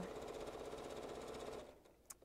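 A sewing machine runs at slow speed in a steady, rapid chatter of needle strokes for about a second and a half, then stops, leaving near silence and a single small click.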